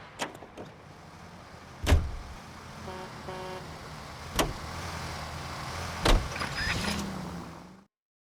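A car in the video game L.A. Noire is driven, a low engine drone under a string of sharp clicks and thumps, with a few short tonal beeps midway, before the sound cuts to silence.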